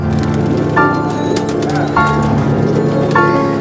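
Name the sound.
racing pigeons cooing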